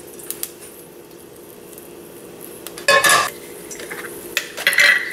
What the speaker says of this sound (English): And you're going to saute the garlic, onions, and slaw in this.